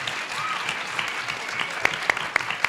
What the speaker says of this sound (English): But let's give a round of applause for our panel.